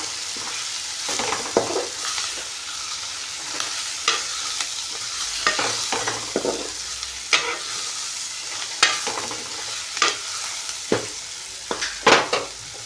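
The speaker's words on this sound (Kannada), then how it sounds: "ಗರಂ ಮಸಾಲ ಹಾಕಿ ಇನ್ನೊಂದು ಸ್ವಲ್ಪ ತಿರುಗಾಡಬೇಕು" Cauliflower and potato curry seasoned with turmeric and garam masala being stirred in a pan, with repeated scraping strokes over a steady sizzle, close and clear, no voices.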